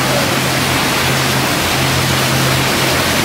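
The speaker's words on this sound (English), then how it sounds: "take a look at this amazing waterfall feature" An indoor waterfall feature at a butterfly house in Sioux Falls, South Dakota, pours in a loud, steady, close wash of falling water with no talking over it.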